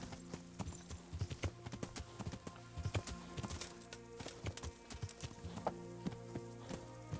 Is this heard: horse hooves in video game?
yes